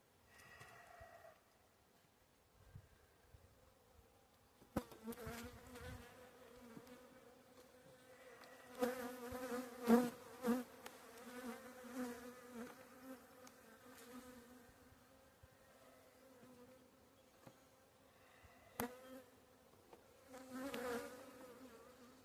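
Honey bees buzz around an open Layens hive during spring build-up while being fed pollen patties, a soft, close droning hum that swells and fades, with a few faint knocks and handling noises.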